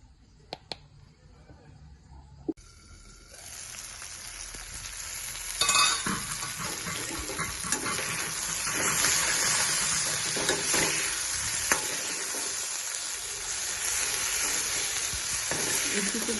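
Chili powder and timur pepper fry in hot oil for a Nepali onion and tomato pickle, with a loud continuous close sizzle and stirring scrapes after a few quiet clicks.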